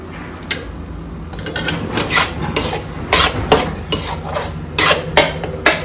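A spoon stirs pav bhaji masala and onions in a pan, scraping and clinking against the metal in irregular strokes, close and moderately loud, with a faint sizzle underneath.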